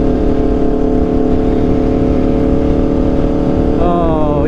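Aprilia RSV4 motorcycle with an SC-Project CRT exhaust, heard loud and close with a dense, steady engine drone throughout that rises in pitch as the revs climb near the end.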